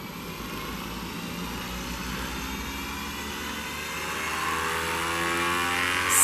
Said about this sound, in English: sound like a motorcycle starting, and this is the gyro inside here turning